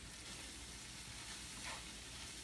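Taco filling sizzles and fries steadily in a little oil in a pan, a continuous crackling hiss that stays even and fairly close throughout, with no talk.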